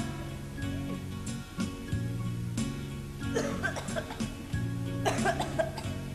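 A man coughs in several harsh bursts, spaced out over a few seconds, in a quiet indoor setting at a clinic with a nurse and patients, moderately close with faint background tone.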